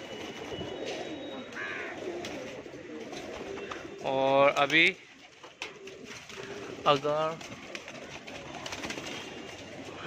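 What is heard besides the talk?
pigeons cooing in a home loft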